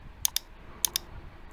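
A computer mouse clicks crisply twice, then twice more after a short pause, each pair of sharp close clicks standing out against a quiet room while working in Microsoft Excel.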